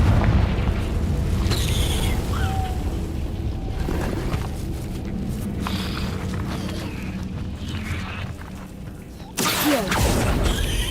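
A Confringo fire-blast spell in Hogwarts Legacy goes off as a loud booming burst over steady game noise, with a second sharp blast near the end.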